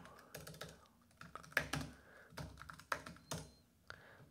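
Sparse, uneven keystrokes on a computer keyboard, a handful of distinct clicks and taps at close range and fairly quiet, with brief pauses between short bursts and no talking.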